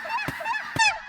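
Snow geese honk nearby in a short burst of repeated, nasal calls during a goose hunt, with two sharper honks standing out.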